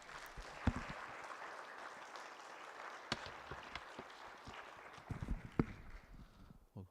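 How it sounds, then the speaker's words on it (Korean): A church congregation at a revival meeting gives soft, scattered applause to welcome Pastor Choi, quiet and somewhat distant, with a few sharper individual claps and knocks standing out. "우리 사랑합니다 표현으로 우리 박수로 맞이하겠습니다"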